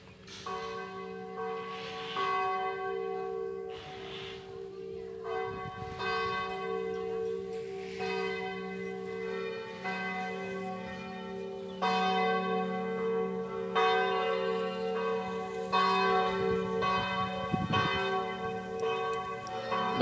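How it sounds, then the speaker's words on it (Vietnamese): Church bells ring out at a Catholic parish shrine in Cao Mai, Vietnam, to call people to prayer, with repeated sustained strikes that ring on steadily and fairly near, with no one talking. "Bây giờ đã chuông đã đổ để chuẩn bị vào giờ kinh nguyện."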